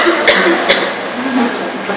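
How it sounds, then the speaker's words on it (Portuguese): A person coughs twice in quick, sharp bursts, then low murmuring voices and background noise continue. "Olha que tosse."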